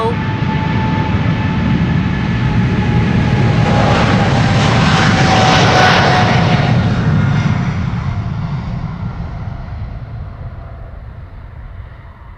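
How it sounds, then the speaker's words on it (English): KLM Boeing 777-300 taking off at Amsterdam Schiphol on a sunny day, a powerful sustained engine roar that builds to a peak midway and then slowly fades as the jet climbs away. "Right in the nick of time before KLM flight 677 is taking off to Calgary. 777-300."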